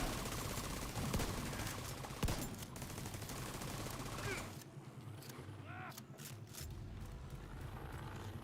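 Rapid gunfire in The Division 2, aimed at a large boss enemy, with bursts and single shots crackling loudly over dense battle noise, then thinning to scattered shots and mechanical clatter.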